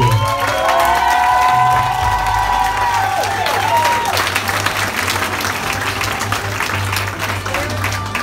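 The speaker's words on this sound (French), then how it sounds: "Un maximum d'applaudissements pour les deux derniers finalistes." An audience cheers and applauds the two finalists at a hotel competition. Loud, dense clapping and crowd noise run throughout, with a voice or music tones briefly audible at the start.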